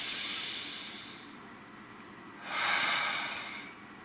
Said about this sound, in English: Nice deep breath.